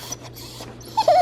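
A dog whines in short, close, high-pitched bursts that rise near the end, with no talk over it.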